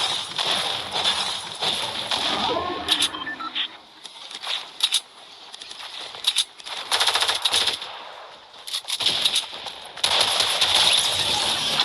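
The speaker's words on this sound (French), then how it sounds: "Je vois déjà qu'ils sont en train de tirer" Rapid bursts of automatic gunfire in a French-language battle royale style video game, repeated volleys of close machine-gun fire with brief pauses between, filling the clip without talk.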